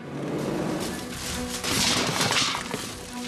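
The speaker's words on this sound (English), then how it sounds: "they come back, smashing their car through the boarded up area that was put in place as a result of the first attempt" A stolen car smashes through a boarded-up area to steal an ATM, heard as a loud, continuous crashing and grinding clatter of breaking material with bursts of impact.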